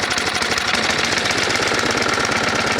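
A snowblower engine runs at half choke, a loud, steady, close mechanical chugging with a rapid even pulse throughout and no voices.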